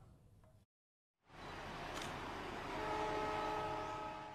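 The Serayu train crosses the Cisomang railway bridge from the direction of Bandung, a loud rumbling roar swelling after a brief silent gap, with a sustained horn blaring through the passing noise.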